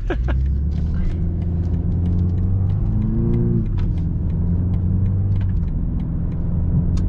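A 2022 BMW 230i with its turbo engine pulling away from a stop sign: a steady low engine rumble with a rising drone midway through, heard from inside the cabin and running continuously throughout.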